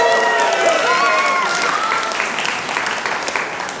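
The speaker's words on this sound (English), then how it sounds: "Can everyone give her applause, please?" Audience applause in a room at a 50th celebration, steady dense clapping held throughout at moderate level, with faint crowd murmur mixed in.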